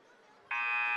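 A loud electronic buzzer sounds abruptly partway through, ending the period of a varsity high school wrestling match in a gym, holding a steady harsh tone after a brief stretch of quiet crowd murmur.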